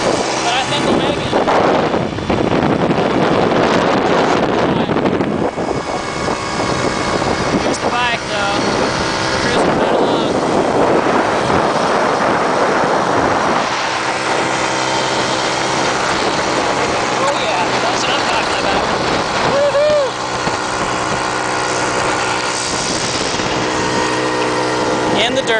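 A Vespa Bravo moped strains uphill toward the top of the Newhall Pass beside the 5 freeway, its small engine droning steadily under heavy wind buffeting and road roar, loud and close for the whole stretch.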